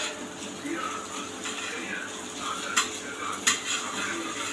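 Food being stirred in a pan with a utensil: soft scraping under a low steady background, with two sharp metallic clinks standing out partway through.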